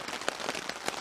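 Rain falling hard on a tarp at a state forest campsite makes a soft, steady patter with scattered sharper drops, quiet and without voices.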